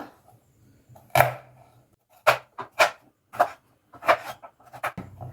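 Malabar spinach (basale) stems are chopped on a board in a home kitchen, giving a series of sharp, separate cuts in an irregular rhythm with quiet gaps between them.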